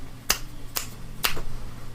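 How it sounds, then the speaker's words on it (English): Three sharp, crisp finger snaps made with both hands at once, evenly spaced about half a second apart, close and clear over a faint background hum. "snapping my fingers 3 times on both hands at the same time"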